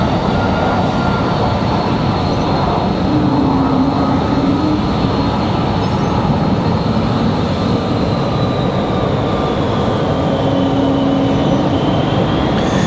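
A PSA Airlines regional jet departing Raleigh-Durham International toward Washington, D.C. gives off a loud, sustained, roaring engine rush with a steady high whine that holds for the whole stretch without letting up.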